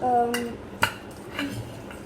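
Pizza pasta sauce is mixed in a pan in a home kitchen, giving a few sharp utensil clinks and scrapes against the metal over about two seconds.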